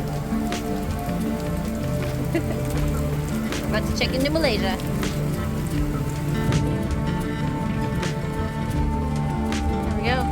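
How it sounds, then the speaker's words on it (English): Steady rain falls while a sailboat docks at Port Dickson, Malaysia, a continuous dense patter on the boat with someone talking over it. "it's raining"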